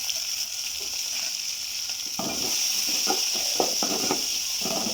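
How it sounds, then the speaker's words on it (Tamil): Garlic, small green chillies and small shallots fry in hot oil with a steady, close sizzling hiss. Partway through, a run of stirring scrapes and clatters joins in over the continuous frying, and no one speaks. "பூண்டு நல்லா எண்ணெயில் வதங்கிடுச்சு. இப்போ சின்ன பச்சை மிளகா ஆட் பண்ணிக்கலாம். அது சின்ன வெங்காயத்தை ஆட் பண்ணிக்கலாம்."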